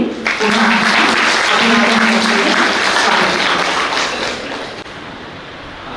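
A crowd at an International Yoga Day event claps steadily in sustained applause, loud and dense, with a voice briefly audible underneath before the clapping slowly thins out.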